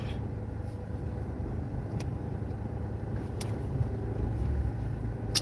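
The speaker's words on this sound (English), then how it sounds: "I hate driving this damn car" A car's engine and road rumble drone steadily from inside the cabin, a constant low roar with faint ticks and knocks over the top and no voices.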